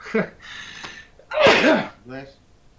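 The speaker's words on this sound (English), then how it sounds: "excuse me, I'm going to sneeze." A single sharp sneeze bursts out close up, preceded by a quick inhaled gasp and followed by a brief murmur.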